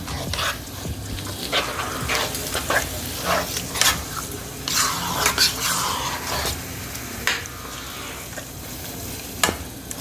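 A tempering of hot spiced oil sizzles as it is stirred into sarson ka saag in a pan, with soft sizzling and intermittent scraping, clattering stir strokes up close and no voices.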